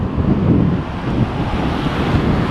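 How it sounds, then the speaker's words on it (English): Strong wind buffets the camera microphone on a seaside promenade beside Coral Island, a steady loud rumble with gusty swells throughout and no talking. "So we get to have all that lovely wind blowing into the camera."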